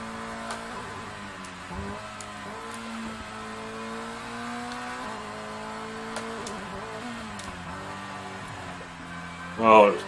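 A race car in Pro Race Driver accelerates hard, and its engine note whines and climbs through several gear changes. Faint talk can be heard in the background.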